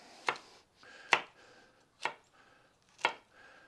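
Peppers for a crock pot jambalaya being chopped on a cutting board, four distinct sharp knife chops at an even, unhurried pace, close and fairly quiet.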